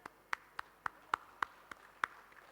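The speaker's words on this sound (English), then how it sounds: "A special round of applause goes to all the award winners." Sparse handclaps at an NPTEL award felicitation at IIT Kharagpur, about seven sharp, faint claps spaced unevenly, like a few people applauding award winners in a quiet hall.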